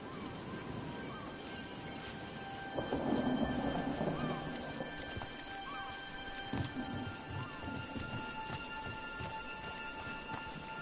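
Steady rain in the video game Dragon Age: The Veilguard hisses throughout, with a few heavier splashes and thumps, a brief louder swell early on, and faint tones lingering in the background.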